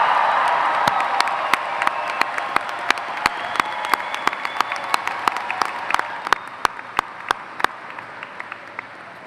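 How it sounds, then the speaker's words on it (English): A high school graduation crowd applauds the class of 2017 with broad sustained clapping and some cheering, a few loud close claps punctuating it as the wash of applause slowly thins. "let's give the class of 2017 a resounding round of applause for all that they've accomplished"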